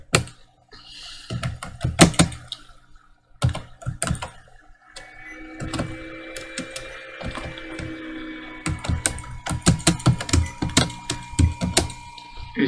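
Rapid keystrokes on a computer keyboard while typing a document in MS Word, coming in dense irregular bursts with short pauses, close and fairly loud, no speech.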